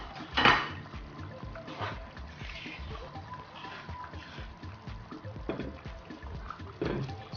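A spoon clatters and scrapes around a pot of groundnut (peanut) soup with fish as it is stirred, with irregular clinks and knocks at close range and a few sharper hits, no voices.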